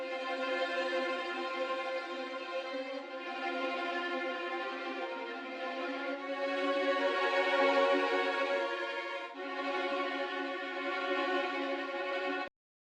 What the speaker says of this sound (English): I use session strings on the tremolo preset right here for the violins